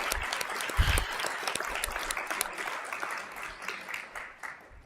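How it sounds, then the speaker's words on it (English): Round of applause at a city council meeting in St. George, steady crowd clapping with crisp individual claps, a brief low thump early on, tapering slightly toward the end. "give her a round of applause"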